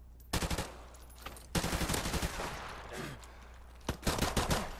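Automatic gunfire in an online shooter video game, with rapid bursts of shots close up, broken by short pauses and then renewed volleys near the end.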